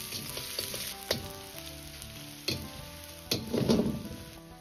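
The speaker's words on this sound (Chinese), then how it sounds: "油热后下入小料葱姜蒜" Chopped scallion, ginger and garlic stir-fry in hot rapeseed oil in a wok, giving a soft steady sizzle broken by a few sharp spatula clanks and a louder burst of crackling near the end.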